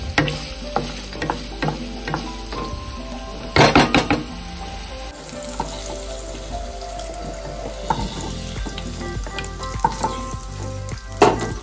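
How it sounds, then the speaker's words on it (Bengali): Steady sizzling of paneer frying in a hot pan, with occasional scraping and stirring clatter, close and continuous without any voices. "বেশি ভাজার দরকার নেই, হালকা করে ভাজলেই হবে।"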